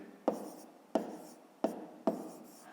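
Pen or pencil strokes on paper during a fifth-grade maths exercise, four sharp taps with short scratching tails at a steady rhythm, close and fairly quiet, with no talk.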